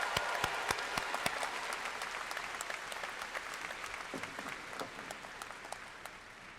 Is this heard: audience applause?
yes